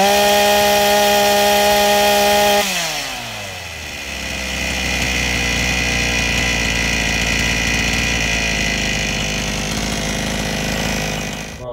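Ruris RM540 chainsaw on its first start: the engine idles with a buzzing drone, then revs sharply upward and holds a loud, high, steady whine near the microphone.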